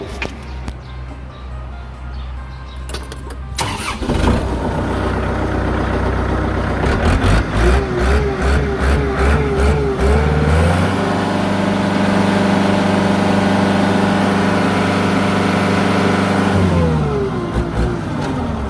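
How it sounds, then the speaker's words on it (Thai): A large Kubota L4708 tractor diesel engine cranks and catches, then settles into a loud, steady idle with a deep rumble, briefly revving near the end. "เดี๋ยวเราลองมาสตาร์ทเครื่องยนต์ดู"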